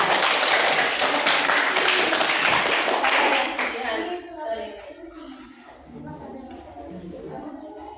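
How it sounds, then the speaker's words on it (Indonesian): Students in a coding class clap for a classmate in a brief burst of quick hand claps that fades after a few seconds into children's chatter. "tepuk tangan untuk Jihan"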